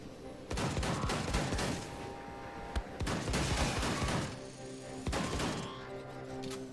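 Shotgun blasts in the Wolfenstein 2 video game: three loud, booming bursts, each followed by a crackling decay and echoes, over steady game ambience.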